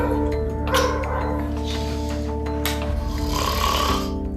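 A person snoring loudly, with harsh rasping breaths close by, rough and repeated, over a constant low hum.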